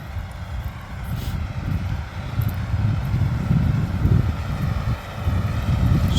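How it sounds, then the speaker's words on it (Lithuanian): Crawler tractor pulling a Czajkowski strip-till seeder while sowing lupine in a field in Lithuania, a steady low engine drone and rumble at moderate distance, fairly even throughout. "Traktorius vikšrinis traukia."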